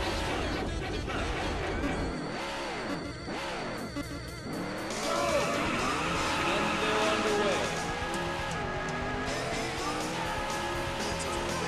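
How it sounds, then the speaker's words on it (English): Race car engines starting and revving in the Daytona USA arcade game, with sweeping pitch-bending engine whines, crash and tire noises, and music layered densely throughout, loud and continuous. "Gentlemen, start your engines."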